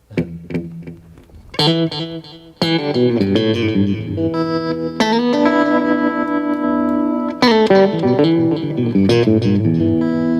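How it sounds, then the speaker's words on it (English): Electric guitar played through an echo delay effect unit emulating vintage digital or tape echo, sustained distorted chords and single notes ringing with repeating trailing echoes, loud and continuous with several sharp strummed attacks. "the type of echo unit that you're emulating, whether you want it to be like the more of like the better digital ones, like the vintage digital ones, or the vintage tape"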